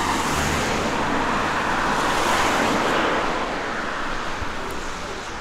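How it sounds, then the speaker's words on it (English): Street traffic from passing cars along a sidewalk forms a steady, dense roar of road noise that swells slightly and then eases, with no voices over it. "And a lot of noise from the cars."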